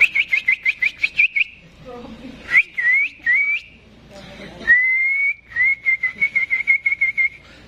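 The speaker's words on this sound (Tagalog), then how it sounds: "ang ingay ng ibon namin dito oh." A bird whistles in quick repeated notes, then longer rising calls and a sustained trill, close and clear with brief pauses between phrases.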